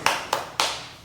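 Three sharp hand claps in a steady rhythm, fairly close and loud, with a fourth just starting at the end.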